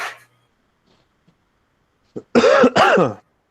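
A person clears their throat, then coughs hard twice in quick succession, loud and close, after a brief faint sound at the start.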